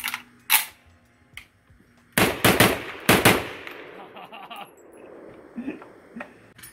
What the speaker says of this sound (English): he's letting me shoot his Type 81.